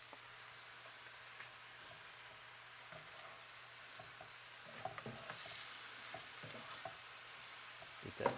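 Philly cheesesteak meat cooking in oil in a home frying pan, a steady, fairly quiet hiss with scattered small pops and the occasional scrape of a utensil.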